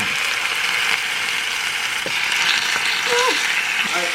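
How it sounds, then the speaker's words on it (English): Food sizzles in a frying pan in a home kitchen, a continuous bright crackling hiss close by, with brief faint voices in the background. "Oh, it's sizzling now."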